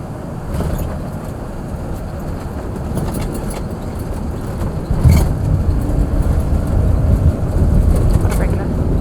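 Heavy jet touching down at a bush airfield, a loud continuous engine and rolling roar with a sharper thump about halfway through as the noise swells and stays heavy to the end.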